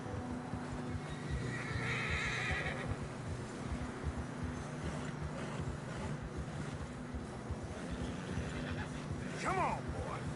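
Horses in Red Dead Redemption 2 whinny and neigh as they strain through deep fresh snow on a narrow trail, hooves clopping under steady ambient noise, with a sharp high whinny near the end and people talking over it.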